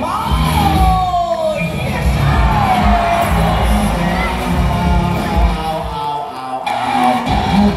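At a dolphin show at Dufan Ancol, a large crowd cheers and yells in a loud, sustained roar that rises and falls. High whoops rise above it and an announcer's voice breaks through now and then.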